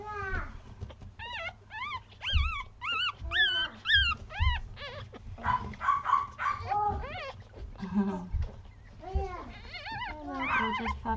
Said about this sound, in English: gorgeous puppies.